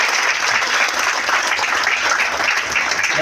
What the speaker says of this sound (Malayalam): ഒരു നല്ല ക്ലാപ്പ് കൊടുക്കാം